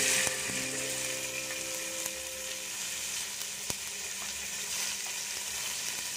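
Onions are added to prawn biryani masala frying in a pan, giving a steady bright sizzle throughout with a faint electrical hum underneath and one sharp tap near the middle.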